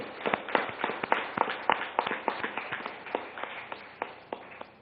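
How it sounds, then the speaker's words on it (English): Sparse audience clapping at a government business event honouring elected companies, a handful of distinct, uneven claps spread across the room, fairly faint. "So let's give a round of applause to all the elected companies."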